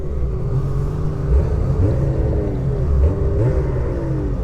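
A 2027 XRS 600RR motorcycle engine idles and blips its throttle close by, a loud steady rumble with rising, wavering revs and a couple of brief surges, no voices over it.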